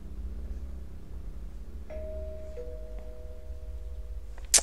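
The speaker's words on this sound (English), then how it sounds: "I heard the doorbell." A soft electronic doorbell chime rings twice in a quiet room with a low hum, the tones holding briefly, followed by a sharp click at the end, in the video game Welcome To Kowloon.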